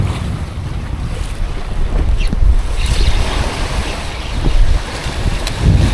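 Strong wind blows over the open sea during a tog fishing trip, a loud, constant rushing roar with gusting buffets against the microphone and no talking.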